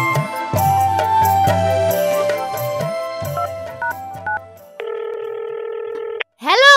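A mobile phone call is being dialed, with a rapid run of keypad tones followed by a steady ringback tone and a short rising chirp at the end, loud and close over light background music.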